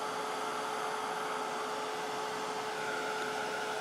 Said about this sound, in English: I think my heat tool is too old already